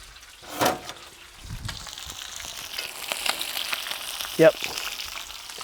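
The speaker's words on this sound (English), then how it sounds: "they crisp up a bit darker than your normal fried fish because of the oyster sauce" Fish coated in oyster sauce fries in a pan with a faint, soft sizzle and occasional stirring clatter, quiet and close, with a brief spoken word.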